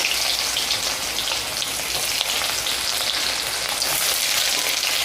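Onions fry in hot oil left over from frying small puthi fish, giving a loud, steady, close crackling sizzle that runs without a break and with no talking.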